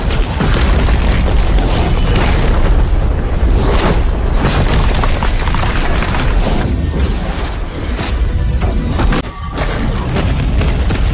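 Animated bombardment explosions booming one after another in a loud, continuous barrage of deep blasts and bursts, with rumbling debris between the hits.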